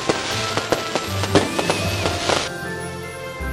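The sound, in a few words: fireworks display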